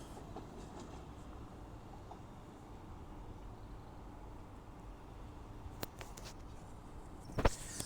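A train passing through Guide Bridge station, a low steady rumble of rolling wheels heard at a moderate distance, with a couple of sharp crackling bursts near the end from pantograph sparks.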